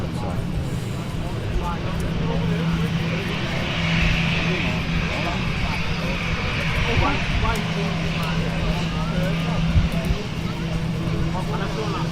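A TUI airliner at Manchester Airport roars continuously, a loud, steady engine drone that swells slightly midway while a low hum runs beneath.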